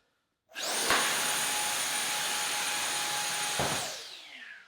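Ryobi 18V compact brushless handheld blower running steadily for about three seconds, a loud, even whooshing roar with a sustained whine that starts abruptly, holds constant, then winds down.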